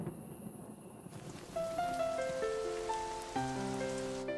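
Steady rain patters on a surface in a Caillou cartoon while soft tonal music notes rise and layer over it, the downpour continuing throughout.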